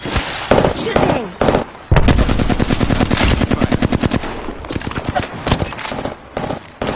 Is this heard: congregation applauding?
no